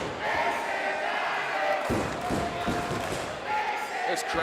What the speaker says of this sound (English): This crowd is energized on a gorgeous Sunday afternoon in the Carolinas.